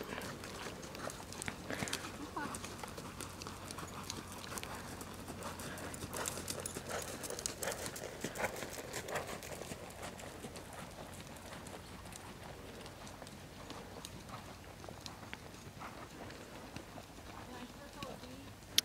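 Horse trotting in a dressage test, a steady run of soft hoof clip-clops at moderate distance, with people talking throughout.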